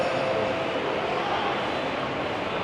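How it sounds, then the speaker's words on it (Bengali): Inside a Chennai Metro rail car heading from Chennai International Airport, a steady loud rumble of the moving train fills the space, broad and continuous with no breaks. "আমি আছি এখন চেন্নাই মেট্রো রেলে।"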